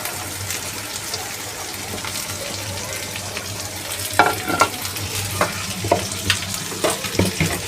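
Okra and lightly fried onions sizzling in a pan, a steady frying hiss with scraping stirs and clatter of the spatula growing more frequent toward the end.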